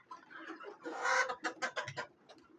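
A desi chicken clucks nearby in a short run of quick, rhythmic clucks, rising into a louder squawk in the middle.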